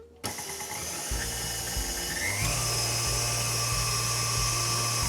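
An electric mixer whirs steadily at medium speed, whisking egg whites with caster sugar and lemon juice for a pandan sponge cake. The motor hum runs loud and continuous and close up, with slight shifts in pitch and no talking.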